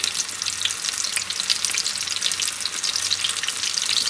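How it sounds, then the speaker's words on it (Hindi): Onion pakora batter frying in hot ghee gives a steady, close, continuous sizzle with a dense crackling hiss that holds evenly throughout, with no voices. "अच्छा गरम घी होगा। और हम इसके अंदर छोटे छोटे पोर्शंस में ये डालेंगे, इस तरह फैलाकर पकौड़े।"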